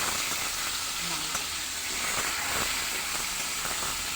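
Raw pumpkin and potato fry in a pan, giving a steady, loud sizzle with faint stirring scrapes throughout.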